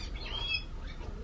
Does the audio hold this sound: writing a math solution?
no